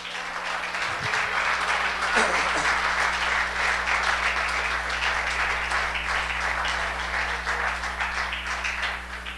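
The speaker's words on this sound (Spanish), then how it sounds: "denle un aplauso al Señor" A church congregation claps steadily during a Spanish-language sermon, a continuous wash of applause at moderate level from start to finish.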